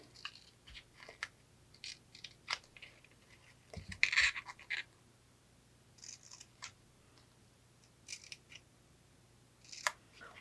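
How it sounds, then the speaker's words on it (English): Scissors cut the white tabs of a small cardboard mini doll box, giving sparse, quiet snips and scratchy paper cuts with a louder cluster midway and no voices. "Cut straight in and then come back at an angle on the white tabs."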